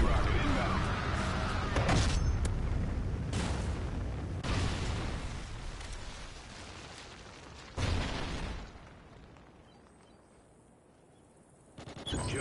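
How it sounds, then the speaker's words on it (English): Trinity rocket strike explosions in a video game: loud, booming blasts and crackling bursts in several heavy waves, fading into a low rumble before one last sharp impact. "Friendly Trinity rocket inbound."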